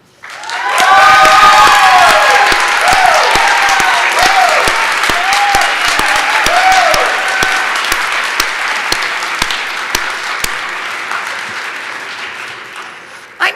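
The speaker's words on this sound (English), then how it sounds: "I'm saying Kimberly has a cheering section here." Loud audience applause with cheering and whoops at an awards presentation during a 100th annual communication convention, a dense sustained clapping wash from start to finish, slowly easing off toward the end.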